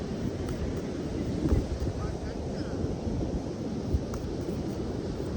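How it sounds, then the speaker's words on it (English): Steady wind rumbles and buffets the microphone outdoors, a low continuous roar with a faint voice underneath. "It's windy today, but not as windy as I thought it would be"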